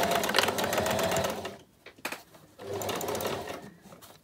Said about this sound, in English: I'm going to back tack to start and then just run the length of the piece to the other end and back tack at the other end.